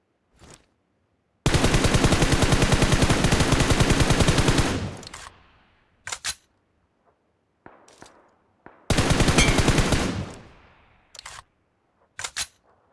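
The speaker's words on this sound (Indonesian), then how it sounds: "Ada tembakan dari pulau seberang." Two long bursts of rapid automatic gunfire in a video game, loud and close, separated by a few sharp single shots and short mechanical clicks, with no talking.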